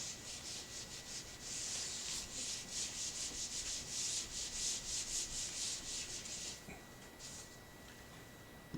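Writing being rubbed off a board, a close rhythmic swishing of quick back-and-forth strokes that runs for several seconds and then trails off into a few lighter wipes.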